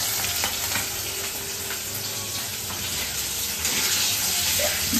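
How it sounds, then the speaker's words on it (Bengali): Pomfret fish frying in oil gives a close, steady crackling sizzle with small sputtering pops throughout and no talk. "ওই পমফ্রেট মাছ ভাজতে বসেছে।"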